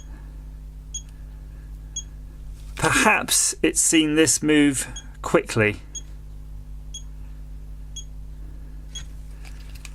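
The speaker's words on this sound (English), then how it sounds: "I don't know what the beeping's warning me about." Short, evenly spaced electronic beeps from a finger pulse oximeter repeat faintly throughout, with a person talking over them partway through.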